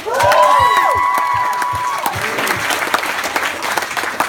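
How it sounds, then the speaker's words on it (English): Wedding guests break into loud applause with cheers and whoops during a best man speech, a bright whistle-like tone and voices rising at the start before the clapping continues on its own. "let's have a round of applause for everyone here tonight"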